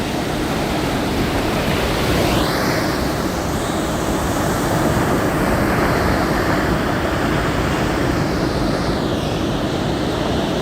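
Ocean surf breaking on the beach at Hiratsuka on the Shonan coast, a steady loud wash of broadband roar that never lets up, with faint swells rising in the hiss and no voices.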